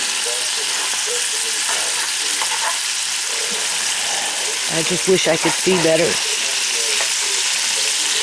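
Food frying in a pan with a steady broadband sizzle throughout, bubbling and stirring noises swelling near the end while a person speaks briefly over it.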